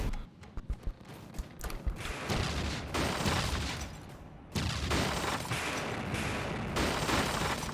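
A 50mm autocannon opening fire in a video game, sustained bursts of heavy rapid shots broken by brief pauses, loud and close, beginning with a few scattered clanks before the firing takes over.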